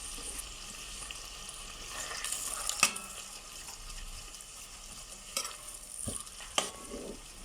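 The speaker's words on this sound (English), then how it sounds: "We're going to stir this nicely and let it fry on medium heat for about 3 minutes." Samp with turmeric powder stirred and frying in a pan on medium heat, a low steady sizzle with occasional scraping clinks of a spoon against the pot, close and fairly quiet, no talking.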